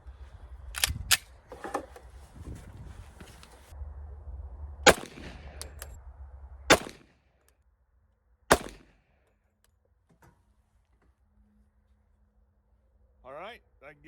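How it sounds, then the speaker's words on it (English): Three loud, sharp .45 ACP shots from an FNX Tactical pistol firing 230 grain round nose flat point rounds, spaced a couple of seconds apart, with talk and handling noise before them and quiet after. "the first 3 shots we're going to shoot here is with the 230 grain round nose flat points"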